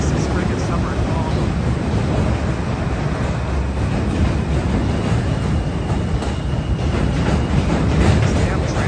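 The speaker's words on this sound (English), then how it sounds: "This damn train." A train rumbles past close by during a walking commute from Brooklyn to Manhattan in New York City, loud and continuous, with a low roar and faint rhythmic clatter throughout.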